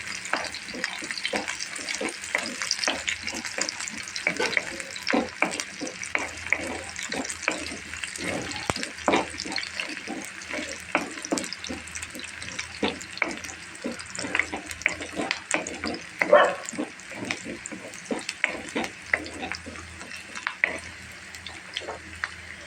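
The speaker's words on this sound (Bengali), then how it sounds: "কাঁচামরিচ সরি শুকনো মরিচ রসুন পেঁয়াজ দিয়ে দিলাম লাল করে নেব" Dried chillies, garlic and onion frying in hot oil until reddened, a steady dense sizzle with frequent scraping stir strokes and occasional clinks, continuous throughout and no voices.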